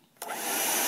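Shark vacuum cleaner switching on after a brief quiet moment, a broad steady whoosh swelling quickly and holding loud and close with no voices.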